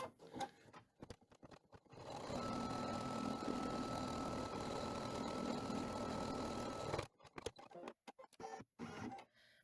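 An embroidery machine stitches a fabric appliqué tack-down line for an in-the-hoop leprechaun wall hanging, running as a steady rapid mechanical chatter for about five seconds, with scattered clicks and handling knocks before and after it.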